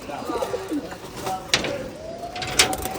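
Pigeons coo softly and intermittently while feeding, with a few faint brief knocks and rustles around them; a voice speaks quietly in the background.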